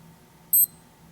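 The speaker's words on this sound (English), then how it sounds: "Also button tones" Sigma PC 10.11 sports watch gives a short, bright electronic button tone, a single beep of about a tenth of a second over a faint steady hum.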